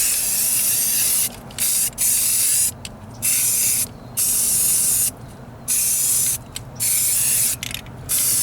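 Spray gun laying a slightly heavier primer coat on a patched driver-side floor pan of a Ford Ranger, loud hissing bursts of roughly half a second to a second, repeated about eight times with short pauses between, no talking.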